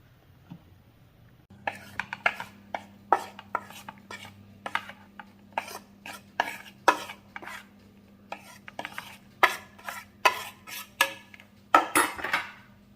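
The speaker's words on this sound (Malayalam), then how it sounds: "സാവധാനം ഇതിങ്ങനെ ഒന്ന് ഫോൾഡ് ചെയ്തെടുത്താൽ മതി. കഴിവതും ഇത് ഒരു വശത്തേക്ക് തന്നെ ഫോൾഡ് ചെയ്തെടുക്കുക." Flour is slowly folded into beetroot cake batter in a bowl with a spatula or spoon. Repeated scrapes and soft clinks against the bowl come at an unhurried rhythm over a low, steady background hum.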